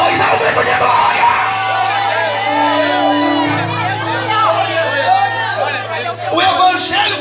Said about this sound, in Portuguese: Levanta a tua mão e dá um grito de glória.